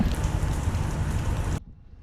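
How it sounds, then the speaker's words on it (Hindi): Monsoon rain pours down heavily around a train running from Taxila to Gujar Khan, a dense, even hiss that breaks off abruptly and leaves near silence. "इस बारिश के मौसम में देखें ये बादल कैसे छम छम बरस रहे हैं।"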